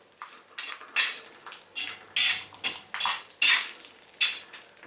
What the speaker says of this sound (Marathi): आपल्याला आलं आणि लसूण टाकायचे। असे तेलात ना अर्धा ते 1 मिनिट परतवून घ्यायची